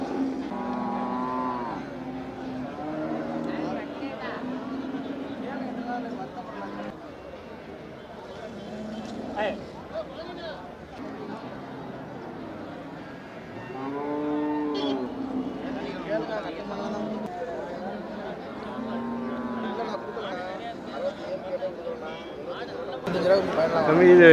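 Cattle at the busy Manapparai cattle market low and moo repeatedly, several drawn-out calls near and farther off, amid constant crowd chatter and people talking throughout.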